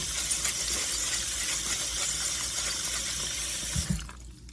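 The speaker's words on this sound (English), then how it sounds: "let me wash this off a little bit here." Tap water runs steadily over tumbled garage sale diamonds being rinsed in a sink, a loud continuous splash that stops abruptly near the end.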